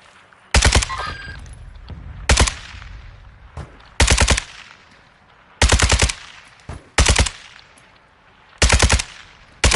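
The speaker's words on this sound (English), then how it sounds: "Somebody else is shooting at him." Automatic gunfire in a video game firefight on a hillside, a series of loud, sharp bursts every second or so, some short and some sustained, close and alone without talk.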